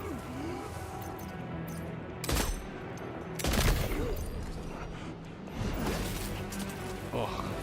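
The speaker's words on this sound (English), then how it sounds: "Who else is shooting at me now?" Gunfire in the video game Death Stranding 2: a few sharp, loud shots and bursts land irregularly over a constant background rumble, with a player's voice speaking between them.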